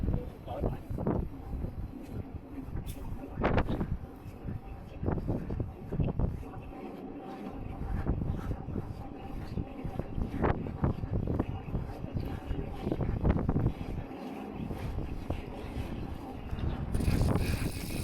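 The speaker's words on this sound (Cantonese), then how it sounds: "好大風咁樣" Strong wind at Tai Lam reservoir buffets the microphone in continuous gusty rumbling with irregular bursts, steady and loud throughout the clip.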